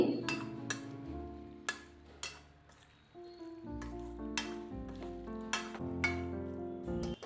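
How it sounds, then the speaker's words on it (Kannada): Boiled potatoes and grated coconut cook in a hot pan for a Kannada-style methi aloo palya, with soft sizzling under repeated scraping and clinking of a spoon against the pan in irregular bursts, close by and without talk. "ಬೇಯಿಸಿರೋ ಪೊಟ್ಯಾಟೋಸ್ ಇದೆಲ್ಲ ಅದನ್ನ ಆ್ಯಡ್ ಮಾಡಿಕೊಂಡು ಚೆನ್ನಾಗಿ ಮಿಕ್ಸ್ ಮಾಡಿ ನೆಕ್ಸ್ಟ್ ಇದನ್ನು ಒಂದು ಟೂ ಮಿನಿಟ್ಸ್ ಅಷ್ಟು ಬೇಯೋದಕ್ಕೆ ಬಿಡ್ತೀನಿ"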